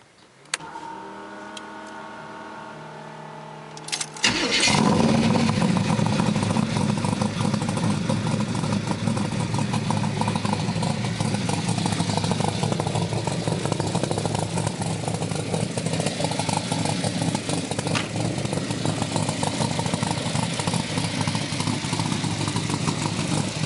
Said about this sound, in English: Alright, let's start it. The side pipes sound